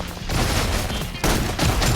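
Suppression gunfire in the game Love and Deepspace: dense, continuous rapid shots in two loud sustained bursts with a brief gap between them.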